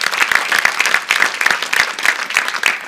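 A church congregation claps in praise, loud and near, with a fast, fairly unified rhythmic beat running steadily throughout.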